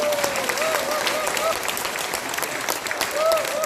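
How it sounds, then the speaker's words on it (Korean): Applause from a patriotic rally audience in Incheon, a steady wash of clapping filling the space, with voices and brief whoops or tones poking through. "박수 한번"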